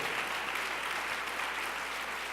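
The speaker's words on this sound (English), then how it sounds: "How about a big round of applause for everybody who got out there and walked this year?" Steady applause from an audience at the IOCDF 2017 conference awards presentation, a continuous wash of clapping that stays even and moderately distant for the whole stretch, with no voices rising above it.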